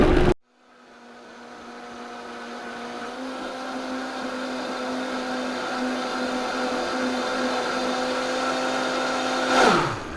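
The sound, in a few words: Vitamix blender blending a thick mixture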